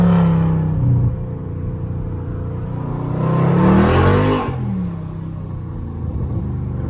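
A Dodge Scat Pack engine rumbles deep and loud in traffic, its pitch rising as the throttle is tapped for a short acceleration, then settling back to a heavy idle-like growl, heard close from inside the car.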